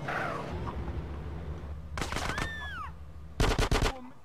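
Gunfire in GTA San Andreas on PS2 during a hostage-ship mission: two quick bursts of automatic fire, the second louder and closer, over a low game rumble with a brief whistling tone between.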